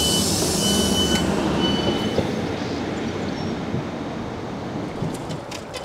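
A train on the Marston Vale Line runs past a level crossing with a loud, steady rumble of wheels on rail and a high wheel squeal near the start, holding strong before easing slightly.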